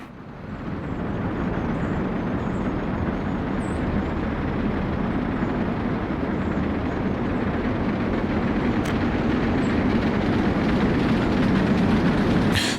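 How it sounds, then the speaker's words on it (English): A train rolls in on an elevated railroad in the Workers & Resources: Soviet Republic city-building game, a steady, broad rumble that holds loud and even for the whole stretch with no talk over it. "A train coming in on the elevated railroad."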